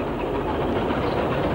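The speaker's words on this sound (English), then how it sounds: "A standard 264 tank hurries the branch set along the main line." A British Railways Standard 2-6-4 tank steam locomotive hauls a two-coach branch train along the main line, a steady close rumble with rhythmic clatter of wheels over rail joints, continuous and alone.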